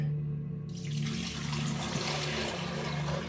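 Water dumped out of a Rubbermaid shave bowl into a sink, a steady close splashing pour under a low background hum that continues for several seconds.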